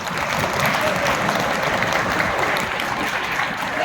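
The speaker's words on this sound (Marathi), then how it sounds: "तुमच्यासाठी एकदा जोरदार टाळ्या वाजवा" Dense, steady audience clapping at the opening ceremony of an inter-school annual sports festival, a continuous wash of many hands with no break, fairly loud and close.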